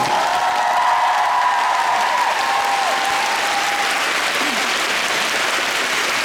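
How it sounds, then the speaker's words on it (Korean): Theater audience applauding during a musical's final curtain call and stage greeting in Goyang, a steady, full wash of clapping lasting about six seconds without a break. "그동안 수고했다고 뜨거운 박수 한 번 부탁드리겠습니다"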